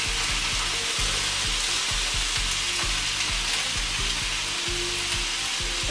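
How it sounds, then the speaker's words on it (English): Sausages for bangers and mash sizzle loudly in a frying pan, a steady dense hiss with repeated soft knocks and scrapes as they are turned over, close and continuous. "we're just flipping the sausages over again"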